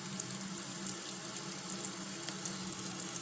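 A tap runs steadily with hot water from a tankless instantaneous water heater, a soft even stream with a constant hiss and no pauses or voices.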